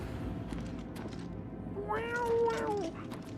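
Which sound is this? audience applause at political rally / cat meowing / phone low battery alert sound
cat meowing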